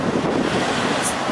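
Steady, loud wind buffets the microphone outdoors on a dusty, dirty, windy day, a continuous roaring rush with no voices.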